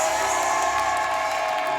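Applause from a studio audience on an Indonesian television game show, a steady dense wash of clapping with some cheering, loud and continuous throughout.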